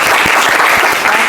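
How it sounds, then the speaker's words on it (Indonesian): Dense applause from a seated class in an Indonesian Islamic education classroom, steady and fairly loud throughout with no talk over it. "Tepuk tangan semuanya."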